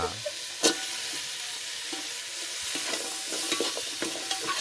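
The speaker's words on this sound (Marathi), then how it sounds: "आता आपण पोट्टेक भाजी घालणार अरे आता पण असा आवाज येऊ गो हा बात चुरचुरीत आवाज येऊ बघ" Jackfruit vegetable sizzling in a hot pan as it is added, a steady frying hiss with scattered crackles and a sharp pop early on, close and moderately loud with no talking.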